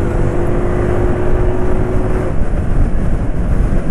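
A Yamaha NMAX scooter engine held at full throttle, a loud, steady roar with a rough, knocking rattle running through it.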